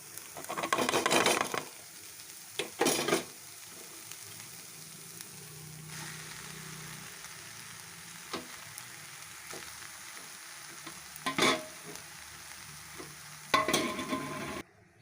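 Potatoes stir-fried in a little oil for kachori filling give a steady low sizzle, broken by several sharp bursts of spoon scraping and tossing against the pan.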